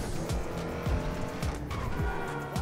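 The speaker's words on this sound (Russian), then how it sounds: "Давай, я просто газую." A car accelerating in GTA Online, with its engine revving up over and over in rising sweeps and tires squealing. The sound is loud, close and continuous, with no voices.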